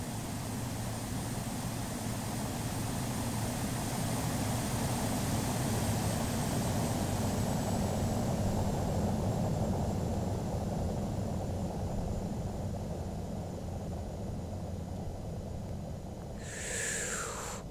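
Boeing 737 taking off from a too-short runway in the FSX flight simulator, a steady loud jet engine roar with broadband rush holding for the whole stretch, alone without talk, easing slightly near the end.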